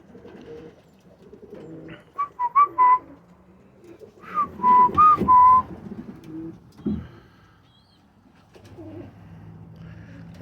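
Pigeons in a flying loft coo and whistle in short bursts up close, with quieter rustling and soft cooing between calls.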